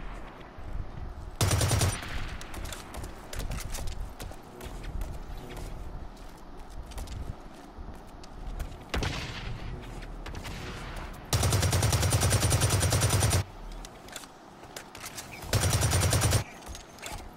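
Automatic weapon fire in the online shooter Blacklight Retribution, with several long, loud bursts of rapid shots standing out against quieter in-game footsteps and clatter.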